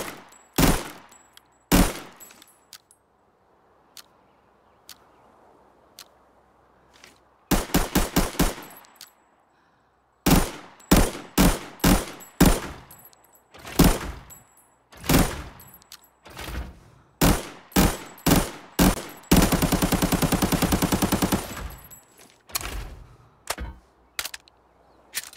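An AN-94 rifle fires in Arena Breakout, loud sharp shots in quick bursts and single rounds separated by pauses, including one long sustained burst of automatic fire, with no voices.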